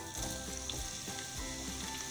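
Sliced onions are added to hot mustard oil with cumin seeds, giving a soft sizzle broken by a few low knocks from stirring. The sound stays fairly quiet and close, with no talking.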